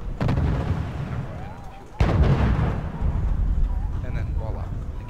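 Artillery fire in the Wargame European Escalation strategy game: heavy booming blasts with a sharp loud impact near the midpoint, set against a continuous rumbling battle din with someone talking over it.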